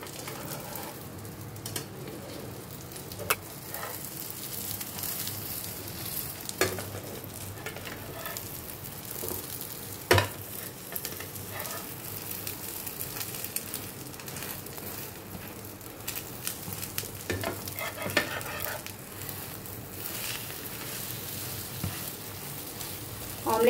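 An egg omelette frying in a covered pan gives a steady, soft sizzle and crackle throughout, with scattered light pops and a few faint clicks of the lid or utensil.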